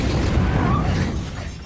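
A Predator drone rammed by an ambulance explodes in a loud, rumbling blast with dense low-end noise and crackling debris, slowly fading over a couple of seconds.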